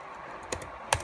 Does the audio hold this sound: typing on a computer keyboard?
yes